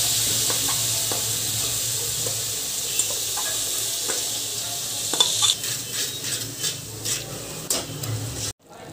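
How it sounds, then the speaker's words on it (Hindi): Grated coconut and sugar roast in a kadai while a spoon stirs and scrapes steadily through them, with a soft continuous sizzle and scattered clinks against the pan, close and fairly loud. "मैंने जो नारियल और शुगर को ऐड करके रखा था ये मैं इस कढ़ाई में डाल रही हूँ। इनको भी मैं हल्की सी भून रही हूँ।"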